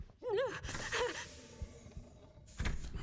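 Breathing from an alien creature in a 3D horror game: two wavering, rasping breaths close up, followed by faint thuds and a final heavy exhale.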